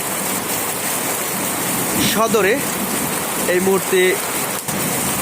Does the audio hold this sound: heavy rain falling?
yes